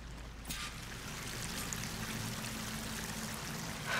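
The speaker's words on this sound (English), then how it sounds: "That waterfall must be coming from somewhere." A waterfall in the video game Horizon Forbidden West rushes steadily as a constant broadband roar, with a brief sharp noise near the start and a swell at the end.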